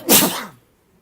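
A single sharp sneeze, close and loud, bursting out and fading within half a second, with nothing else around it.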